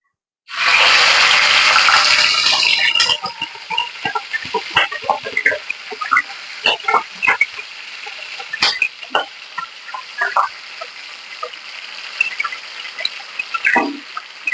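A loud burst of hissing sizzle gives way to scattered crackles and pops from mutton frying in oil, continuing at a lower level.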